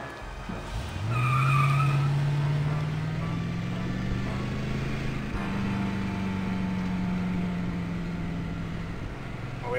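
A car roars off with tires skidding and squealing, engine revving in a long rising pitch that holds steady as it pulls away, loud and close with no talking.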